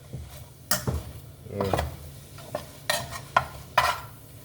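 Shrimp frying in butter and seasoning while being stirred in a pan, with soft sizzling and scattered scraping, clinking stir strokes at irregular intervals, close and fairly quiet.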